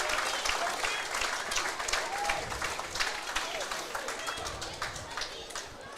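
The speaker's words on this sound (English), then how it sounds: "And the crowd goes mad" A stadium crowd cheers and applauds continuously at a rugby league captain's run, a dense wash of clapping and shouts with people talking nearby.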